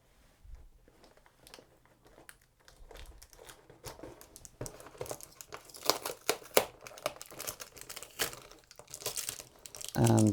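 Plastic protective packaging on a Nerf Super Soaker Dinosquad dinosaur-head water gun being cut and pulled apart, with close crinkling, snipping and tearing bursts that grow busier and louder, ending in a loud handling thump.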